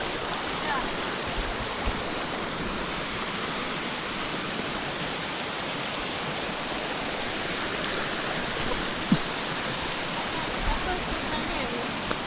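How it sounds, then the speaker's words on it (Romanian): River spilling across a hiking trail in Borjomi National Park, Georgia, a dense continuous rushing roar of flowing water close by, with people talking faintly beneath it. "Uite aici s-a dus râul pe drum."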